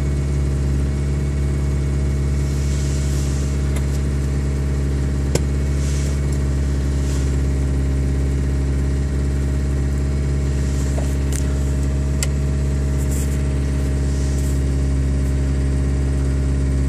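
A 1989 Geo Tracker idles steadily after a cold start, its engine humming at a fast, even idle close up with a few faint clicks and ticks over the drone.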